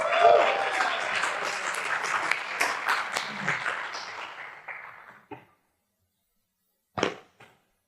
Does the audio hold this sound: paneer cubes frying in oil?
no